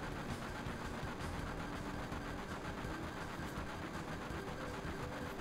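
Train in the video game Final Fantasy VII running steadily, a continuous dense rumble with rattling mechanical texture and no breaks, moderately loud throughout with no talk.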